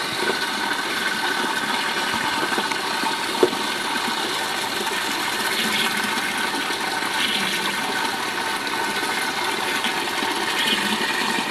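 Water steadily pouring into an automatic hydroponic tank, a constant hissing, rushing flow with a faint motor-like hum beneath, even and unbroken throughout.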